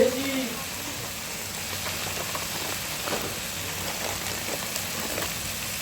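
Spice masala fries hard in mustard oil and white oil for a Bengali fish curry with eggplant, giving a loud, continuous rain-like sizzle with faint stirring scrapes.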